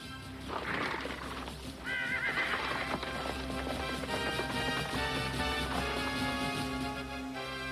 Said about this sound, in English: Isn't that the masked man's horse?